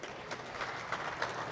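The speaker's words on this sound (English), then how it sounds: "Let's give Pastor Brown a round of applause" Applause for a pastor at a parish candidate forum, a brief, faint wash of clapping from a crowd in a hall.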